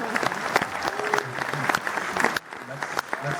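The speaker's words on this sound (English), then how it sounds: "A big round of applause." Applause from a panel audience at a Twin Peaks event, a dense wash of clapping that runs steadily, dips briefly near the end and picks up again, with some voices mixed in.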